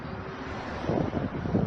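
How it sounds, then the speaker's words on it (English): Wind rushes and buffets a microphone with a steady low roar, growing gustier and rougher toward the end; no voices. "And you can hear it's quite windy."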